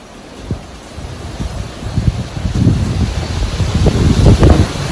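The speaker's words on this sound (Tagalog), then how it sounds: "ang lakas ng lakas ng ulan, ang lakas din ng hangin" Strong gusting wind and heavy rain from Typhoon Ulysses batter the microphone in a loud, rising roar with sharp buffeting bursts throughout, and no voices.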